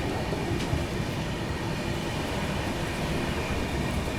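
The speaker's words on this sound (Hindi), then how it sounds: "अभी गाजियाबाद निकलने के बाद एक लोकल ट्रेन को भी ओवरटेक मार दिया यहाँ पर।" Vikramshila Express train running on tracks past Ghaziabad gives a continuous, close rumble with faint rhythmic clatter and occasional squeal, steady and loud throughout with no talking.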